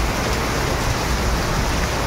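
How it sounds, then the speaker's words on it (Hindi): Steady, dense rainfall hisses evenly without a break, a heavy downpour close by with no voices. "ये देखो भाई बहुत भयंकर बारिश आ रही है।"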